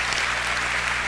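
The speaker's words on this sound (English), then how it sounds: "We like the applauding, so please continue that throughout the debate." Audience applause at a televised debate between Christopher Hitchens and Tony Blair, a dense, steady wash of many hands clapping filling the hall without a break.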